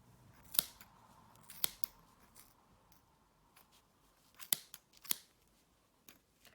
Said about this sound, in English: You're going to snip through the folds.